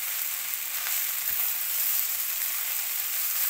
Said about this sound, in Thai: ผัดแห้งๆเลยค่ะผัดแห้ง